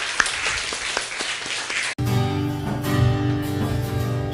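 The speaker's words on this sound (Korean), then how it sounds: "우리 하나님 앞에 영광의 박수 올려드리겠습니다" A church congregation at a Sunday service applauds briefly with scattered claps, before the sound cuts abruptly to sustained music.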